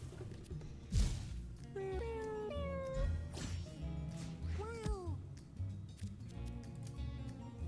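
Cartoonish cat meows from the video game Mewgenics, several rising and falling calls in a row over steady game music, with a soft thud near the start.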